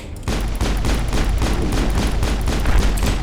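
Loud, dense gunfire during a Mass Effect video game battle, with a sniper rifle in use: a constant roar of rapid shots and booms that starts abruptly and continues without letting up.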